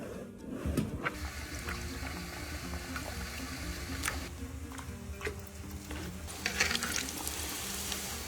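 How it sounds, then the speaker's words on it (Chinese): Dough snacks deep-fry in oil over a low flame in a Mongolian home kitchen, giving a steady close bubbling sizzle with occasional louder pops and stirring clinks. "炸果子得用小火，不然容易焦。"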